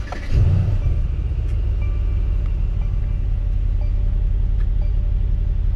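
A 2020 Mercedes C63 AMG engine fires up with a sharp burst, then settles into a loud, steady, deep idle rumble that continues to the end.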